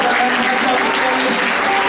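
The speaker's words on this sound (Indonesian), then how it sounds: "Tepuk tangannya kencang, tepuk tangannya kencang." Church audience clapping loudly and continuously, a thick, even wash of applause at full volume with a voice faintly underneath.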